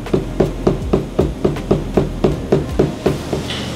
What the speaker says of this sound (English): Then take my hammer and knock it down in.